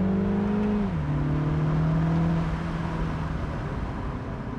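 Turbocharged engine of a 2023 Mini Cooper S Cabriolet pulling hard from inside the car, its tone climbing, dropping briefly at a gear change near one second, then rising again before fading into road noise.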